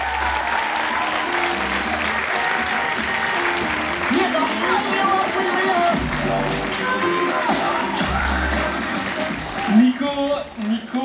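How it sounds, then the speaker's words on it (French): A comedy show crowd claps and cheers steadily, a full room of applause with whoops rising and falling, while voices call out over the noise near the end. "je vous demande d'applaudir Nico, s'il vous plaît."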